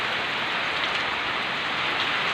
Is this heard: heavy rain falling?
yes